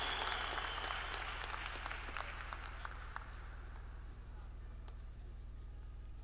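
An audience applauds at a gathering, dense clapping starting full and slowly thinning out over a steady low hum.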